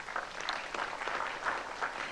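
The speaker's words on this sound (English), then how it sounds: "Would you please make him welcome with a round of applause?" Audience applause at a diabetes wellbeing talk, a steady mass of dense clapping that sustains at moderate level for a couple of seconds with no voices over it.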